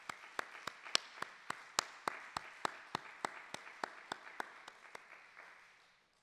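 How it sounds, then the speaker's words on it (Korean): A church congregation at a Friday worship service claps together in a slow, even rhythm of about a dozen and a half distinct beats, quiet and a little distant, fading out toward the end. "이 시간 우리 고린도 선교회를 다시 한번 축복하고 격려하며 하나님께 영광의 박수 올려드리겠습니다."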